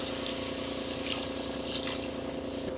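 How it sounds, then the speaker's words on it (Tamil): Water runs steadily into a biryani pot, a continuous rushing pour with no pauses. "ஸோ தண்ணி வந்து தேவையான அளவுக்கு வந்து தண்ணி விட்டுக்கோங்க."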